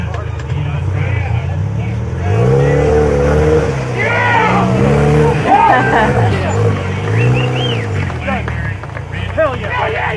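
An RC rock crawler car on a Supercrawl course, its motor whining loudly as it accelerates, heard close under the constant chatter and calls of excited onlookers.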